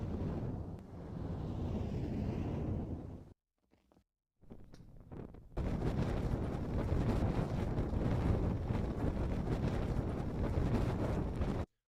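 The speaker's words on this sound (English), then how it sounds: "That's pretty good, like a whipping fire as a layer." A whipping fire layer for an anime scene roars as a loud, broadband rushing texture, cutting out briefly for a near-silent gap before surging back steadily and continuously.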